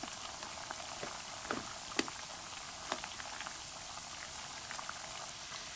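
Panjiri pieces of semolina, wheat flour and gram flour fry gently in a pan over low heat. A steady bubbling hiss runs throughout, with a few sharp pops.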